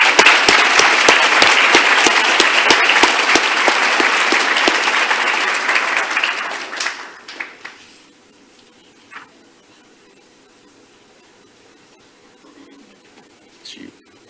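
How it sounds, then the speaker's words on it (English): Loud, dense applause from an audience at a nurse anesthesia recognition ceremony fills the first several seconds, then fades out to a quiet hall with faint scattered sounds. "get one more big round of applause for these individuals"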